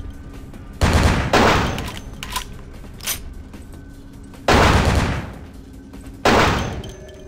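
Gunfire in Vampire: The Masquerade – Bloodlines: four loud, sharp shots in two spaced pairs, each a booming crack with a short decaying tail, standing alone over a low game background hum.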